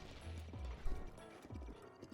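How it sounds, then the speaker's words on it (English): Horse hooves clip-clop in Zelda: Breath of the Wild, a steady galloping patter of soft low thuds at moderate volume, running alone with no talk over it. "But I meant I had a teleporting horse"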